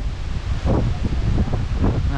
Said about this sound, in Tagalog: Karon na kusog ang balod kay hangin